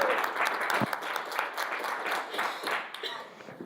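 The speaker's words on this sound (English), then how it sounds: "big round of applause for Manon, please." Audience applause at a blockchain gaming conference talk, a brief burst of clapping that fluctuates and begins to thin out toward the end.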